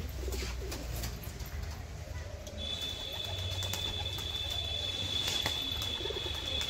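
Pigeons, tumbler-type birds kept for sale, flap and coo close by in a steady outdoor wash of wingbeats and soft cooing, with faint voices and a thin high whine in the background.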